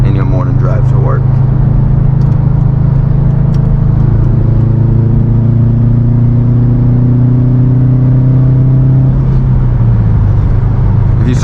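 A Subaru WRX STI Type RA fitted with axle-back exhausts gives a steady, loud, low engine rumble while cruising, with the drone dipping slightly in pitch near the end and a voice talking over it.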